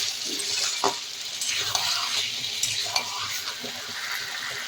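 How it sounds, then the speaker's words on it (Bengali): Ground tomato paste tipped into a hot pan of oil for a Bengali fish curry with potato and ridge gourd, giving a steady close sizzle with a few soft stirring scrapes and clinks. "টমেটো বাটাটা দিয়ে দেবো।"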